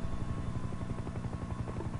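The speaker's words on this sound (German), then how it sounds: "Heli im Anflug auf 6:31." A helicopter approaching in the video game Sniper Ghost Warrior 2, with a steady, rhythmic rotor thump over a low engine drone at a constant moderate level and no voices.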